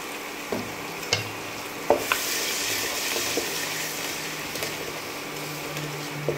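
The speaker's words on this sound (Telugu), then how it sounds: "ఇది కొంచెం వేగనిద్దాము. ఇలా వేగిన తర్వాత ఇందులో మనం అల్లం పేస్ట్ వేసుకున్నాము." Mutton liver fries in a pan with ginger paste added, giving a steady close sizzle with occasional stirring clicks and scrapes.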